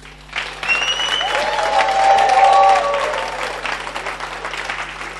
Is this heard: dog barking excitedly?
no